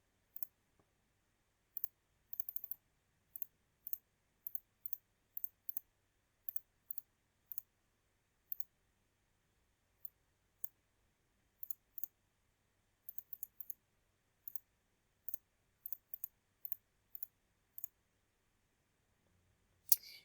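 Keys on a graphing calculator keypad are pressed one by one, giving sharp, faint, close clicks in irregular single taps and quick clusters against near silence.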